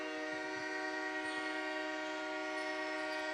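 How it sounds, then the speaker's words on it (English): A freight train passing near an indoor lacrosse arena, its horn sounding as a steady, sustained drone at a distance under faint crowd and arena ambience, with no clear talking. "We got the freight train running through the arena here."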